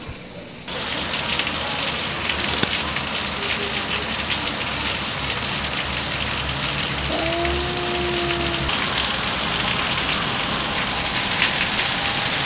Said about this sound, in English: So it's just gonna be rain. Like downpour rain.